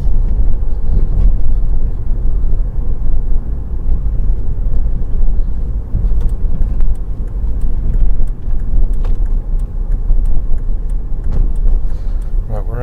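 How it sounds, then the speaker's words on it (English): Car driving along a driving test route, continuous loud road rumble and engine hum from inside the cabin with a few faint clicks, a voice speaking over it. "Just have fun driving the car."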